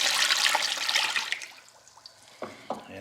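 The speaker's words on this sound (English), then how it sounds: "pour the brine in" Brine pours from a container over trout in a plastic tub, a rushing splashing stream that tapers off into a few separate drips and trickles.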